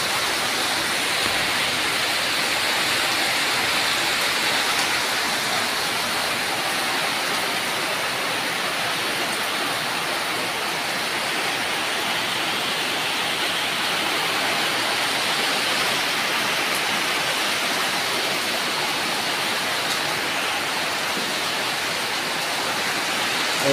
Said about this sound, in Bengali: প্রচুর বৃষ্টি পড়তেছে